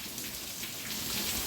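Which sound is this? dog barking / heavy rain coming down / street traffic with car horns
heavy rain coming down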